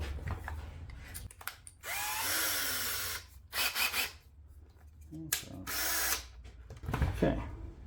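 A power drill whirs into wood in several bursts of a few seconds each, drilling at slight angles while repairing an antique chair leg; the motor pitch shifts as it bites, close and loud.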